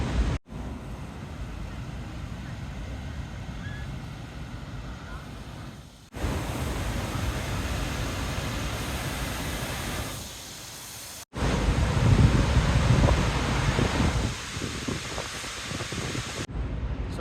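Roar of Victoria Falls in high water, mist drifting down like pouring rain, a dense broadband rush of falling water and wind buffeting the microphone, with abrupt level shifts as the recording cuts between spots.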